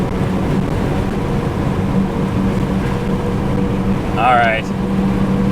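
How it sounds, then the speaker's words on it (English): Steady broadband wind rush fills the cabin of a Ford Probe cruising with its window partly lowered, a constant roar under a brief spoken word near the end. "If there's a lot of wind noise, I apologize, but I got the window part way down"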